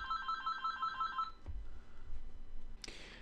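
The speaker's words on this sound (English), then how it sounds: "I got cut off by a phone call there" A telephone rings with a rapid electronic trill repeating for over a second before cutting off, followed by low background noise and a faint click, with no talk.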